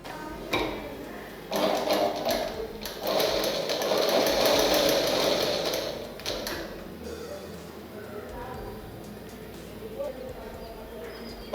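A sewing machine stitches a fabric opening in a tailoring lesson, running in a steady mechanical whir for about five seconds before stopping, with a person talking around it.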